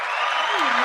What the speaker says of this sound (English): Let's start the Sunday off with a clap.